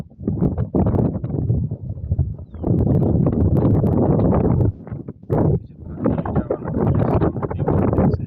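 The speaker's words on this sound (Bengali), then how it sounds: "দেখছেন বাতাসের সাউন্ড কেমন, প্রচুর কুয়াশা আজকে।" Strong wind during a dust storm in Najran, Saudi Arabia, battering the microphone in loud gusty bursts with brief lulls between them.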